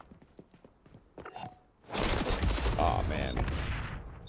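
MP5 submachine gun fire in the XDefiant shooter game: a dense, loud burst of rapid shots after a few quieter footsteps and clicks.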